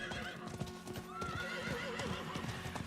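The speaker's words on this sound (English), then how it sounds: "Very pretty horse." A blue-armored horse in Diablo 4 trots with quick, regular hoof clip-clops, close and busy, with a whinny mixed in over the game's background sound.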